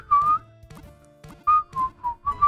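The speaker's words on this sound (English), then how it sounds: "This little bitch keeps using whistle over and over." A Pokémon in Pokémon Brilliant Diamond/Shining Pearl repeatedly uses the move Whistle, a synthesized chiptune whistling tune in short warbling bursts, clear and alone with no talking.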